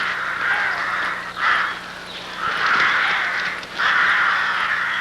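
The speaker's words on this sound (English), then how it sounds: "Eventually, the nest becomes a mass of struggling birds." Rooks squabble at a crowded nest, a mass of struggling birds giving harsh, overlapping caws in three long bursts with brief lulls between, fairly close and with no voices.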